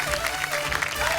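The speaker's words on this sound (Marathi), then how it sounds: "एकदा जोरदार टाळ्या होऊन जाऊ दे." A studio audience on a Marathi TV show claps loudly and evenly in a sustained burst of applause, filling the room with a dense patter of hands.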